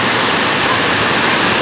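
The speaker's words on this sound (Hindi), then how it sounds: "देखो बारिश" Heavy rain pouring down, a loud dense continuous hiss like water gushing from a pipe, steady and close throughout with no voices.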